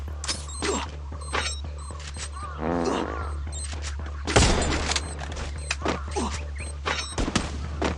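Bursts of gunfire in the mobile shooter Free Fire ring out amid game effects and a loud boom, with rapid shots and crackling impacts over a low hum and scattered voice chat.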